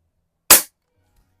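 An Umarex NXG APX multi-pump air rifle fires a single shot while plinking at a target about 7 yards away: one sharp, loud crack that dies away fast, with nothing else around it.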